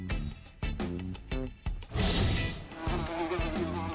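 A wasp buzzes loudly and close for a couple of seconds in a comedic French sketch, a steady insect drone breaking in after short choppy bursts of other sound.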